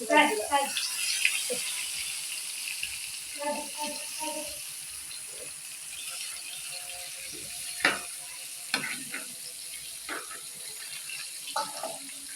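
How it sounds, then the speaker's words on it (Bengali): Egg-coated fish pieces frying in a pan, with soft intermittent sizzling, scraping and clinking of utensils at close range under occasional speech. "ডিমটা দিয়ে দিতে হবে মাছগুলো এখন ভাজে নেবো"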